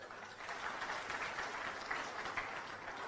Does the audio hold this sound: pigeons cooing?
no